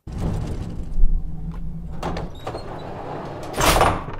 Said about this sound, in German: Brauchen noch ein bisschen Gittergeräusch.